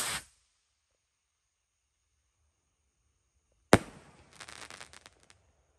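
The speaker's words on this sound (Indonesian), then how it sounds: "Lanjut kita nyalakan mercon Rocket Roman Candle" Roman candle rocket firework at night, a sharp bang at the start, then a loud launch burst followed by a fading crackle of small pops and fizzes.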